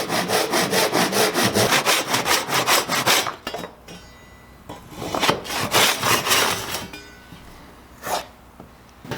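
A hand saw cuts tenon cheeks in wood with fast, rasping back-and-forth strokes, loud and close, pausing briefly before a few slower strokes resume.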